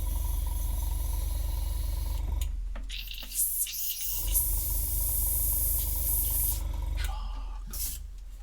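Spray painting with a can: a steady hiss that cuts out briefly, then returns in bursts of broad, close spray noise over a low background hum.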